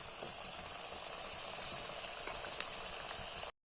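Eggplant slices for Kerala-style vazhuthananga bajji fry in hot oil with a steady, close, bubbling sizzle that holds evenly throughout, with no talking.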